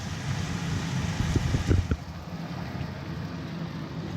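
A kitchen extractor vent fan runs with a steady, moderate whooshing hum, broken by a short burst of clatter near the middle.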